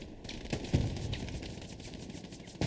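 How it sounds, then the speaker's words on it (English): Gunfire from a competitive eSports shooter match: a steady patter of distant shots with a few louder bursts, mixed into constant battle noise with no talk. "I can hear that gunfire"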